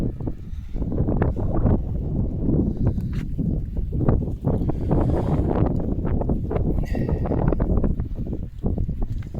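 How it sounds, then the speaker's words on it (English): Outdoor wind buffets the microphone in a continuous loud rumbling roar, gusting unevenly throughout. "So you'll hear the wind?"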